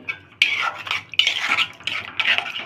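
Semolina and water being stirred into a stiff dough in a pot, with bursts of scraping and clinking of a utensil against the metal pot, close and fairly loud, separated by short pauses.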